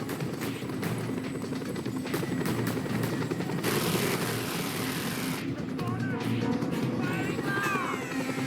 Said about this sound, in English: Deal with that chopper, Rico, quickly.